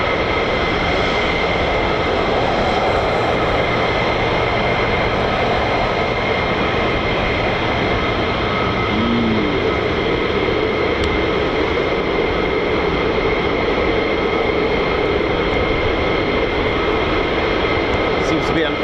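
F-35 fighter jets taxi at RAF Lakenheath, home of the US Air Force 48th Fighter Wing, producing a loud, continuous engine roar and whine that holds steady throughout, with a voice over it.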